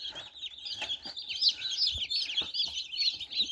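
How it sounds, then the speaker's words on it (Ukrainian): Newly hatched chicks from an autumn incubation of eggs chirp continuously in a dense, high, overlapping chorus, fairly close, with a few soft low knocks beneath. "гарний масовий вихід курчат"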